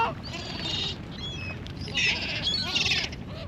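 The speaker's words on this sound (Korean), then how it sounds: "갈매기야 여기 있어." Seagulls call by the sea on Yeongjong Island in summer, a series of shrill, wavering cries in bursts, fairly close, over a steady background of wind and outdoor noise.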